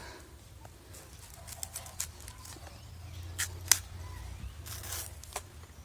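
Green banana bunches are cut from the stalk outdoors in a few quiet, scattered snips and chops. The sharp cuts sit apart from one another over a soft background hush.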